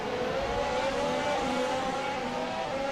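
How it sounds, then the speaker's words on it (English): Race cars in a Challenger League race at the Monza circuit, a steady, loud drone of engines passing at speed with no pauses. "Cars sound awesome"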